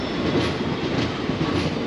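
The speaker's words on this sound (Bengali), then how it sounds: "এই ট্রেনটা আছে সকালবেলা ছেড়েছে ভাস্কো ডাকা থেকে" Passenger train bound from Vasco da Gama to Shalimar, heard from on board as a steady, close, loud rumble with rattling wheel noise and no voices.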